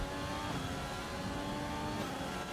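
An F1 race car engine in the F1 2020 game at Hungary screams at high revs, holding a dense, steady, loud whine with no talk.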